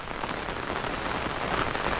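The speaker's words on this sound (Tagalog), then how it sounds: "Ah, grabe po ang ulan" Heavy rain pours down in a dense, constant hiss with no voices.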